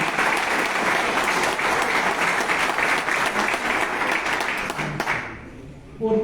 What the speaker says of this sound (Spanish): yo quiero un fuerte aplauso para Judith al frente de la dirección de secundaria